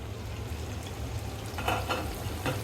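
River prawns cooking down in a covered pan, a low steady simmering sizzle with a few faint crackles and bubbling ticks, close and quiet with no voices.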